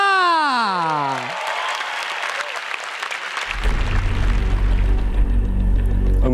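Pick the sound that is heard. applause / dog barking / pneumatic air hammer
applause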